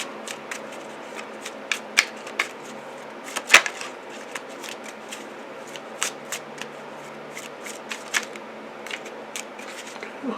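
Close, crisp riffling of playing cards being shuffled, with soft continuous rustling and sharper snaps at irregular intervals.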